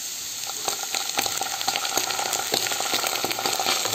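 Ginger garlic paste fries in a pan for dum aloo, giving a continuous crackling sizzle with frequent small pops and spits, close and steady throughout with no voices.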